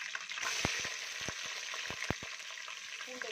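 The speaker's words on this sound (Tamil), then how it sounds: "அடுத்து பச்சை மிளகாய் போடுறோம்" Green chilies sizzle in hot sesame oil with mustard seeds, fenugreek and curry leaves for a fish curry, giving a steady close frying hiss broken by sharp crackles and pops.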